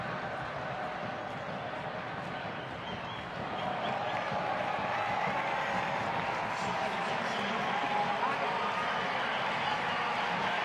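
A soccer crowd applauds an injured Lindsey Horan of the Portland Thorns as she leaves for the bench, a steady broad wash of distant clapping and cheering that swells slightly midway and carries on throughout.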